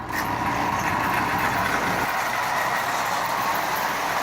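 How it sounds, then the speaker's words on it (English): A Marx B&O diesel toy locomotive runs steadily, a dense continuous motor whir and rattle at constant loudness throughout, with no talk over it. "So I'll be running this the rest of the day, as I do with any new locomotive."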